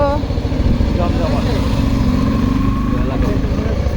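Several motorcycles pull into a busy parking area at a winter pitha food spot in Aftabnagar and idle, their low engine rumble steady and close throughout while voices chatter nearby.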